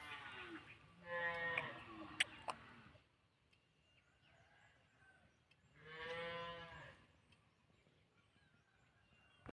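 A cow wandering into a garden gives two long, drawn-out moos several seconds apart, clear and moderately close against quiet outdoor background.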